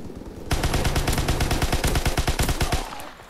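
A submachine gun fires long rapid bursts in Call of Duty WWII, loud and close, with dense evenly spaced shots running for a few seconds.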